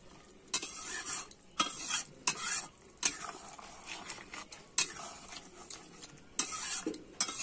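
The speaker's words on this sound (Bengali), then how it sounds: "দিয়ে একটু ভালো করে নাড়িয়ে নেব।" Garam masala being stirred into a fish-head and soybean curry in a pan, with repeated scraping strokes of a spoon against metal over a soft sizzle, close and fairly quiet, no talking.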